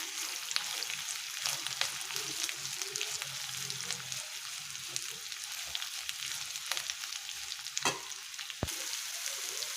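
Cut bitter gourd pieces fry in a pan, a steady fine sizzle and crackle at moderate volume with occasional stirring scrapes and a sharp click near the end.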